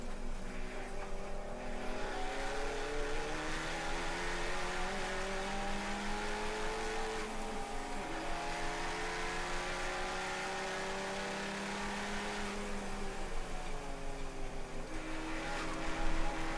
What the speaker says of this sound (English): Then Ed's motor pulls him out front on the long straight